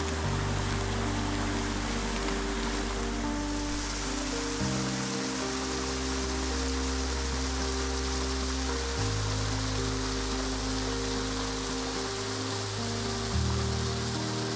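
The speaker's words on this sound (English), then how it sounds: "We're just going to drop down beside the waterfall." Waterfall in a Blue Mountains canyon on the Newnes Plateau, a steady broadband rush of falling water that stays loud and close throughout with no voices over it.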